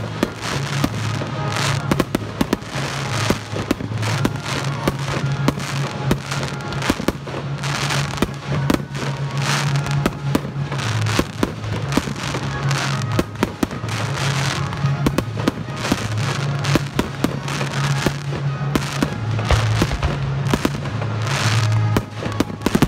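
A fireworks display at Vaux-le-Vicomte crackles and bangs continuously, dense sharp pops and booming explosions layered over a roaring wash of crackle, loud and sustained throughout without speech.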